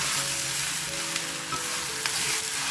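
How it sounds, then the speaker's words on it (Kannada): Eggplant frying in a hot pan over a high flame, a steady loud sizzle broken by scraping and clinking as the pieces are stirred. "ಸೊ ಇದನ್ನು ಹೈ ಫ್ಲೇಮಲ್ಲಿ 1-2 ನಿಮಿಷ ಈ ಥರ ನಾವು ಕೈ ಆಡಿಸ್ತಾ ಇರಬೇಕು"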